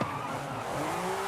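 A car spins out with tyres skidding and squealing in the racing game Forza Horizon 5, a steady engine roar under a continuous smeared screech for about a second.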